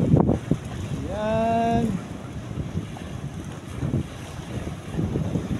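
Strong gusting wind buffets the microphone at a floating cottage on the water, rumbling in low bursts while a voice speaks briefly and a tonal whine rises in the background.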